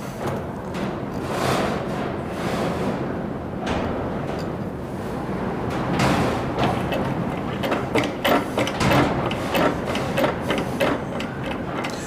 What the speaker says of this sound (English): This is a hand hydraulic press, 20 ton, and it's always worked pretty good.